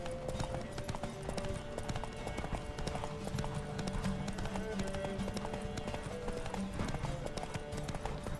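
A horse gallops in The Witcher 3: Wild Hunt, its rapid hoofbeats clip-clopping steadily and continuously over background game music.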